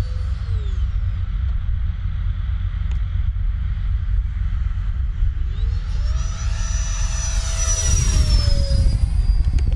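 Electric RC jet, a Freewing JAS-39 Gripen, flying in gusty wind, its ducted fan whine rising and falling as it passes, growing louder with a sweeping pitch shift near the end over wind rumble, no talking.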